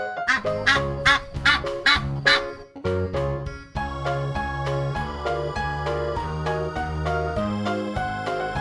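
A goose gives a quick run of sharp honks at the start, loud and close, then a cheerful children's melody with steady beat continues alone.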